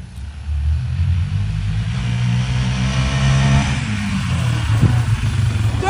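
An 85cc dirt bike engine rumbles and revs close by, rising and falling through several throttle swells with a low, steady motor drone underneath.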